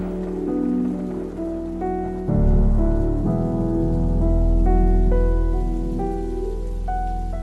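Steady rain falls in a cartoon scene, a continuous patter of drops beneath prominent tonal background music, with no voices.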